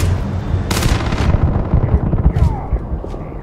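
Rapid gunfire in Starfield, a dense burst of close, loud shots followed by a few scattered cracks over a rumbling background.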